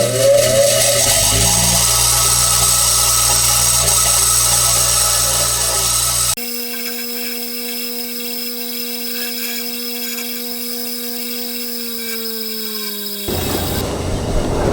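A power tool whines steadily as it deburrs and buffs a cut metal truck bed tie-down clip, first with a rough grinding texture, then as a smoother sustained high whine that cuts off near the end.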